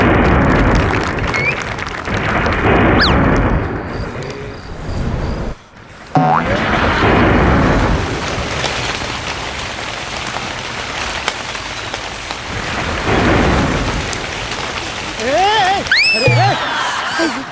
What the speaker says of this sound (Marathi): काय अचानक पाऊस आला ना